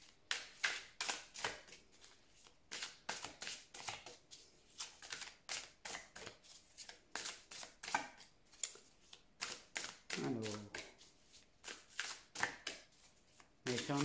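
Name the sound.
shuffling oracle cards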